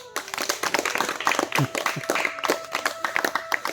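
A group of children at a small village tuition school clap together, a quick uneven patter of hand claps over a few seconds with faint voices mixed in.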